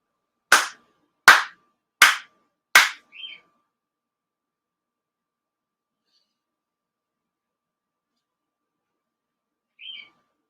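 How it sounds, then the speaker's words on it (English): Four ceremonial hand claps at a Shinto memorial service ring out sharply, evenly spaced under a second apart, followed by near silence and a faint chirp. "4 sincere claps"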